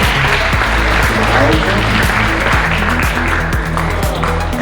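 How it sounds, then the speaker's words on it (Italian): An audience at the Miss Graticolato Romano 2025 pageant in Borgoricco applauds a contestant, with sustained, loud clapping from many hands over low, droning background music. "un bel applauso"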